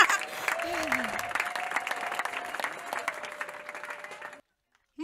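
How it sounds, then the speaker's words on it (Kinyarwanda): A church congregation claps in continuous applause, close and dense, with a voice carrying over it before the sound cuts off abruptly near the end. "Komera Imana amashyi yatugejeje inaha."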